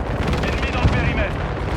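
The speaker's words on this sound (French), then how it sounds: "J'essuie des tirs." Rapid gunfire rattles in a dense burst amid loud battle noise in the video game Call of Duty: Modern Warfare II, with a voice speaking French over the shots.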